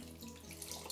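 A small amount of water pours into a pot of jollof rice and stew, a soft, quiet continuous trickle with no voices.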